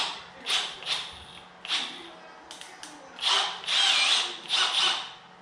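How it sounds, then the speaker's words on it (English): Bursts of a power drill with a step drill bit whining through metal, several short runs with pauses between, close up and fairly loud. "Take the step down drill bit."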